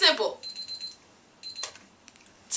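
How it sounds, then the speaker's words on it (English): Alarm clock going off with a shrill electronic beeping in two short bursts separated by a gap. Speech comes before and between the beeps. "When your alarm goes off, it's this simple."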